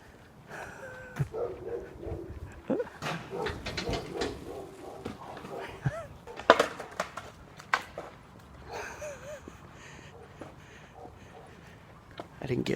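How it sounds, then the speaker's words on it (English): An angry dog barking on a neighborhood walk through Ladd's Addition: sharp, repeated barks at a moderate distance, mixed with birds and nearby footsteps while someone talks. "Man, that dog is pissed."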